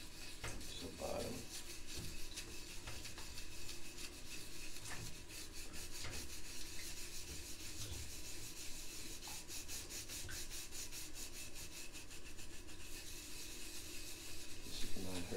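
A pet turtle's shell being scrubbed clean, making a soft, continuous close-up rubbing and scratching with faint rasping strokes and no talking.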